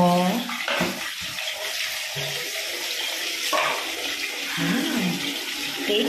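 Shower water runs while a baby is bathed, a steady hissing spray with splashing and shifts in the flow, and voices talking softly over it.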